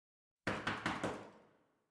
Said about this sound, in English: The pounding started again.